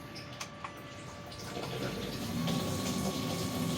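Water runs from a kitchen sink tap fed by a booster pump, starting after a few faint clicks and swelling into a steady, moderately loud rush with a faint motor hum beneath.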